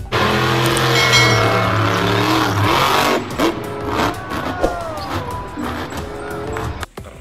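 Toy monster truck producing a loud, steady engine-like revving and roaring sound with wavering tones, continuous for several seconds before it fades and cuts off near the end.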